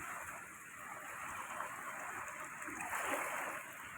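The Kaveri river in flood at Erode after the Mettur dam is opened, a broad continuous roar of rushing water, loud and steady with a surge of turbulence near the end.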